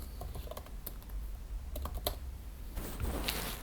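Fingers tap steadily on a computer keyboard at close range, a continuous run of crisp key clicks with a few louder strokes and a busier burst near the end, with nobody speaking.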